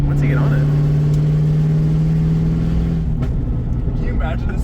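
A car engine revs hard under acceleration, a loud, steady drone close by that rises briefly and then eases off near the end.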